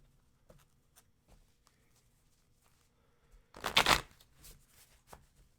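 A brisk burst of tarot cards riffling and shuffling, close and fairly loud, followed by a few softer card taps and snaps against a quiet room.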